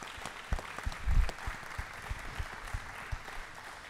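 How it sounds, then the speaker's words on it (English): Audience at a dairy symposium at the World Dairy Expo applauds a panel, a steady patter of clapping with a few louder thumps early on, moderately distant and without speech. "Let's give a great round of applause to our panel."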